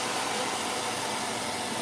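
A hair dryer blows steadily to dry paint, producing a continuous broad whooshing hiss at close range with no breaks or voices.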